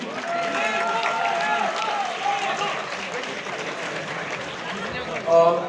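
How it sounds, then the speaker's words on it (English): An audience claps at a Model UN award announcement in a hall. Continuous crowd applause is mixed with voices and cheers throughout, and a brief louder burst comes near the end. "I again request everyone to please clap loudly."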